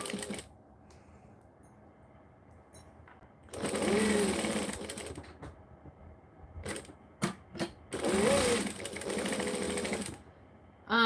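A sewing machine chain-sews Santa stockings in a few short bursts over a quiet room hum, with clicks and handling noises between the runs of stitching.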